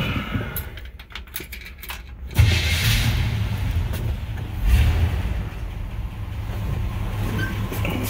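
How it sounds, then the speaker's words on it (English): Keys jangle before a 1966 Chevrolet Suburban's 350 V8 cranks and fires, then settles into a steady, rumbling idle heard close by with a brief throttle blip. "I'll hop in and fire it up here for you so you can hear it run."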